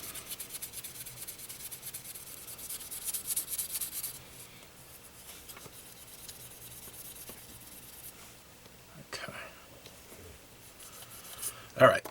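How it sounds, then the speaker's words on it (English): Hand-sanding a model car body part to remove ejector pin marks, a soft, close rubbing and scratching that comes in bursts, louder early on, with a brief clatter near the end. "that's the sanding process to get rid of the ejector pin marks."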